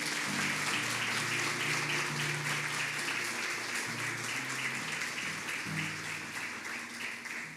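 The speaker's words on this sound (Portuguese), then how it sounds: "Dê uma salva de palmas a Jesus." Church congregation applauding during a sermon, a steady broad wash of clapping heard at a distance with low music or organ tones sustained underneath, fading slightly toward the end.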